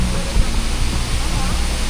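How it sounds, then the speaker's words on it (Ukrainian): A large waterfall in the Puerto Rico jungle roars with a loud, steady broadband rush of falling water, with voices close by. "подивіться, який водоспад здоровий"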